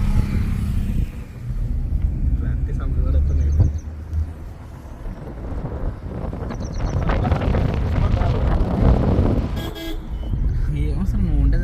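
Steady low rumble of a car interior while riding at the start of a trip from India, with wind noise buffeting the microphone, a horn toot or two, and people talking over it throughout.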